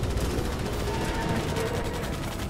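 Rapid automatic gunfire from the video game Starship Troopers: Extermination rattles on continuously, dense and loud across the whole stretch amid a thick wash of battle noise.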